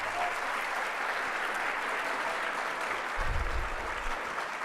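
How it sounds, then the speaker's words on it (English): An audience at a talk on independent media breaks into steady, full applause throughout, with a brief low rumble near the end. "So big round of applause for Rabble for putting this together."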